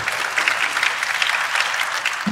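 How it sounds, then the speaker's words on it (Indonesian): Steady audience applause from a crowd of high school students, dense continuous clapping heard up close for a couple of seconds. "boleh kasih tepuk tangan"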